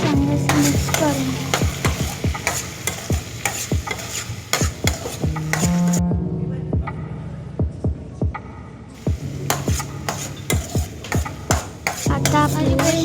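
A spoon or spatula scrapes and knocks rhythmically against a pan while food is mixed, over a steady low hum, with a brief quieter pause midway before the stirring resumes.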